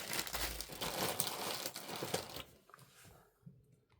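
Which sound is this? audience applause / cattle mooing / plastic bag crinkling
plastic bag crinkling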